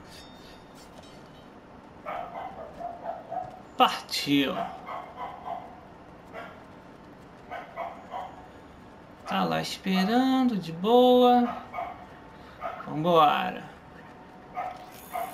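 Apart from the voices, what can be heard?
neighbor's dog barking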